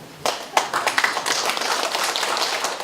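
Audience clapping at a public meeting on city policy in a rural township hall, a burst of hand claps that begins sharply and settles into steady, moderately loud applause, with no talking.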